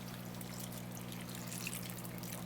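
Milk poured from a glass into homemade biscuit dough, a quiet, steady trickle of liquid running for a couple of seconds with no talking.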